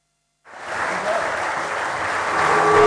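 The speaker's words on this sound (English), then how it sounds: "So please give me a round of applause for Muhaimin." Audience at a hacker conference (HAR 2009) breaks into applause for a speaker, starting abruptly after a short silence and holding a steady, dense clapping that swells slightly toward the end.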